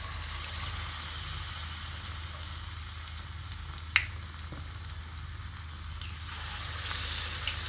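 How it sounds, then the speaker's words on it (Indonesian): Small pieces of food fry in a Turkish pan used for sucuk and eggs, giving a steady, soft, even sizzle throughout with a single faint tap partway through, close and alone. "sekarang udah mau mulai goreng"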